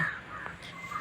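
A single short, harsh caw, like a crow, voiced by a child imitating the bird, close and fairly loud.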